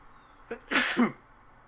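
A single short sneeze, close and fairly loud, with a brief intake before it and quiet afterward.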